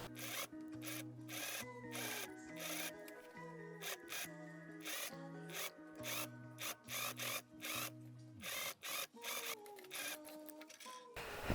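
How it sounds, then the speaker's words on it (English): A sewing machine stitches the waistline of a dirndl, its motor whirring in repeated bursts with short pauses between runs, close and steady with no voice. "So I'll do that under the sewing machine, and I'm gonna sew the waistline at 2 centimeters."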